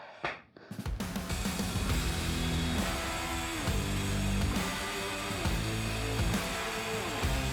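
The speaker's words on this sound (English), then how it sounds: "Just take the circular saw and" A circular saw cuts through an old bulky dresser, a sharp whine starting abruptly after a brief click and then running loud and steady, with the blade pitch dipping in repeated waves as it bites into the wood.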